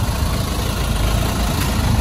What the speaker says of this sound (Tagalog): Butas pa yata yung tambutso mo.